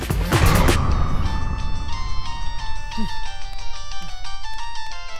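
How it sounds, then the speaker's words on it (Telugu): A phone rings with a repeating electronic ringtone melody that keeps playing while voices speak over it. "నీకు ఫోన్"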